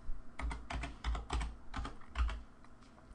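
Someone types a file name on a computer keyboard, giving a quick, uneven run of soft clicking keystrokes close by. The sound is quiet and no one talks.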